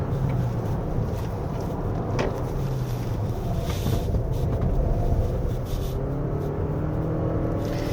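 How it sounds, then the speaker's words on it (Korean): A steady, hard-working 2023 Toyota Highlander Hybrid Platinum engine drone on a winding road, with a constant low rumble and some wind noise, running continuously without any talking. "지금 엔진이 열심히 돌고 있지만"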